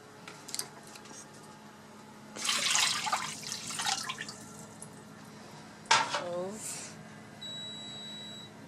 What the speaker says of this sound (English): So the first thing I'm going to do is add my 8 cups of water.